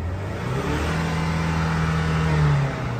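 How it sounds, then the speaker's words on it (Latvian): Close, loud engine of a Chevrolet Orlando revving as the gas pedal is pressed, a steady hum rising into a sustained higher drone that peaks and then drops back, no talking. "Tulītā spiedīsim motora reiz, spiedam gāzes pedāli."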